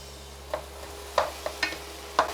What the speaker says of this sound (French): Ensuite, j'ajoute les pommes golden et les poires. Je les mélange et je les laisse fondre pour le moment.